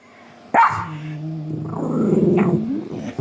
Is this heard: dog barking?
yes